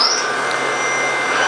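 Okuma Genos M560-V CNC machine spindle cutting a part, a steady close mechanical whine with a high-pitched tonal cutting squeal that holds throughout, continuous and fairly loud with no talk.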